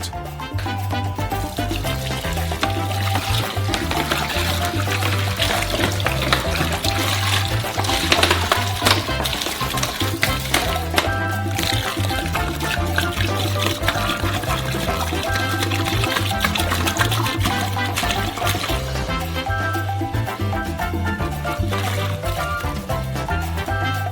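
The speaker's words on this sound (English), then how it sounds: "first pour half of the water out" Steady rushing of water poured out of a large batch of about 70 liters for a giant ice cream mix, continuous and close, with a low rhythmic hum underneath throughout.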